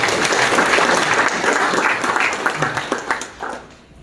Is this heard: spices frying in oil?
no